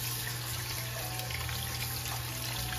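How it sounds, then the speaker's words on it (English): Par-cooked paccheri pasta rinsed under running water to wash off the starch: a steady, close rush of tap water pours over the pasta without a break. "I'm going to rinse the starch."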